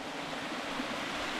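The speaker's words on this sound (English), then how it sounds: "So they've got some running water" A stream at Jiri Mountain National Park, South Korea, rushes steadily in a soft, continuous hiss, fairly faint and unbroken throughout.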